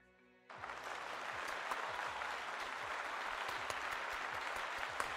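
A burst of dense applause from the video game Super Mario RPG starts abruptly after a brief quiet and keeps going steadily, sounding like a large crowd clapping.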